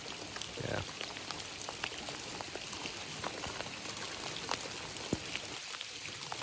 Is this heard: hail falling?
yes